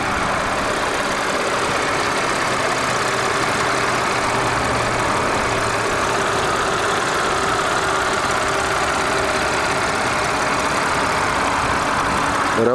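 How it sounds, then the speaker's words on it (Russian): A 2010 Audi A6 engine idles steadily with a smooth, continuous mid-low hum and faint mechanical ticking, close and loud with no speech. "сразу же проверим работу мотора."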